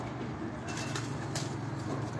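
Pigeons on a rooftop in Dhok Kala Khan, Islamabad, give soft, low coos over a steady outdoor hum, with a few brief wing flaps standing out in the middle.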